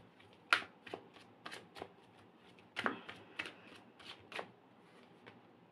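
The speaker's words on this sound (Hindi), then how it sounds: "ये वाले जो कार्ड्स मैं निकाल रही हूँ ना अभी" Tarot cards are shuffled and laid out, giving a series of quick crisp riffles and slaps in irregular bursts, close and fairly quiet, with no talking over them.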